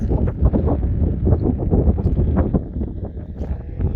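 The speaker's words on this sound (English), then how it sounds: "it's getting a little windy and chilly up here" Wind gusting across an open high mountain trail, a loud continuous buffeting roar with rustling bursts against the microphone, no voices.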